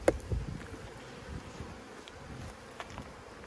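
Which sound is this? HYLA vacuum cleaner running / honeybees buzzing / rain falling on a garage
honeybees buzzing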